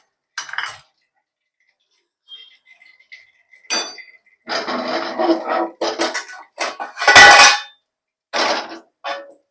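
Metal cookware clanks and clinks in a kitchen as a kadhai is set on the stove, with several short separate knocks and scrapes against quiet pauses.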